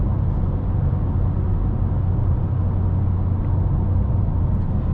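Steady, loud engine drone from inside a 9th generation Honda Accord fitted with a modified free intake, a continuous low rumble running for the whole stretch with no talking.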